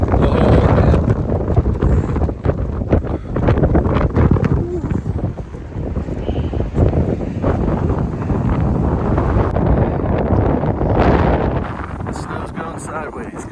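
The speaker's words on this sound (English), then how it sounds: "Here comes the wind." Cold wind buffets a microphone outdoors on a snowy path near historic houses, a loud, continuous rumbling roar that swells and eases, close-up and dominant throughout.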